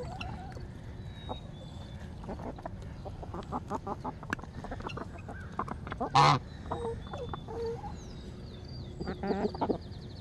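Geese and ducks in a backyard flock with chickens and Brahma hens let out scattered clucks and quacks throughout. One loud, close honk stands out past the midpoint, and more calls gather near the end, with no voices.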